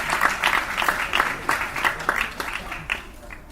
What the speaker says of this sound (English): can we please give another huge round of applause